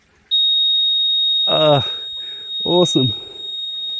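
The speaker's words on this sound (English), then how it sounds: "I don't know what it's beeping at me for" A steady high electronic warning beep sounds continuously from a digger cab, starting abruptly and running throughout while someone talks briefly over it.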